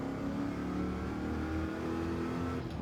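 Car engine in the Gran Turismo 7 racing game, a dual-clutch setup, holding a steady, loud, growling rev with layered harmonics for nearly three seconds before cutting slightly near the end.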